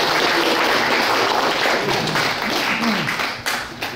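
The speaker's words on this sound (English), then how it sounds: "let's give her a nice round of" Audience applause at a Veterans Day tribute event, a dense steady wash of clapping that holds loud and then thins slightly toward the end.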